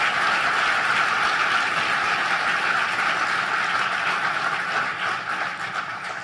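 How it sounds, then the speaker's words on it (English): A crowd applauding at Vice President Pence's speech in Miami, a dense, steady roar of clapping that holds for several seconds and then begins to fade. "let's give the government of Mexico a vigorous round of applause"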